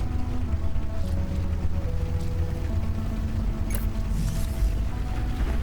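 Crystals tumble into a grinder machine in the video game Lightyear Frontier, giving a continuous mechanical rumbling and creaking churn with a brief bright clink partway through.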